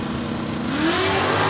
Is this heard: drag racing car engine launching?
yes